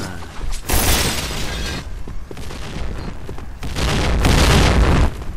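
Bomb blasts in a video game: two heavy booming explosions with shattering debris, loud and close, separated by a short lull of rumbling noise.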